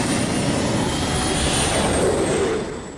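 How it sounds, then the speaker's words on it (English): Jet helicopter turbine engine mounted in a motorcycle frame, a loud continuous high-pitched whine and roar, steady and close, fading slightly at the end. "Why would you put a jet helicopter engine in a motorcycle frame and try to pilot it down the street?"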